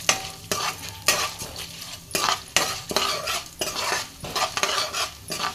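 Chana dal and urad dal frying in a pan while being stirred, with repeated scraping strokes of a utensil against the metal over a steady crackling sizzle, close and fairly loud with no talk.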